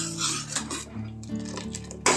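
Chicken tandoori marinade with sugar being mixed in a bowl, a utensil scraping and clinking against the dish in short uneven strokes, close up, with a louder clink at the end.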